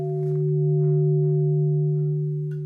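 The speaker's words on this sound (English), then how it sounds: "Hey, those would make great gongs." A handmade metal gong rings with a steady, sustained two-tone, chord-like sound and a lingering hum, with a faint tap near the end.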